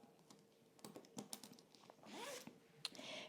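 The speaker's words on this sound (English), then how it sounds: "We're gonna go ahead and zip this up." A zipper on a garment sewn from Simplicity pattern 9114 is pulled up after a run of light fabric rustles and taps, giving a soft, close rasping zip near the end that is faint overall.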